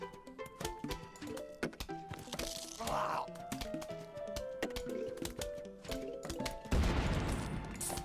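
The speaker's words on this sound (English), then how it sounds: "That's an explosion." An explosion goes off in the Plants vs Zombies video game, a brief burst rising out of busy game music and rapid plinking effects, followed by a louder noisy blast near the end.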